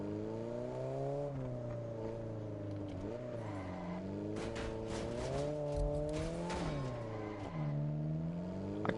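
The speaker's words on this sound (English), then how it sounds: "the Alpine sounds pretty good for, I think it's a 3-cylinder" An Alpine three-cylinder car engine in the racing game Solar Crown drones steadily, its pitch rising and falling through repeated revs and gear shifts, loud and close with no speech.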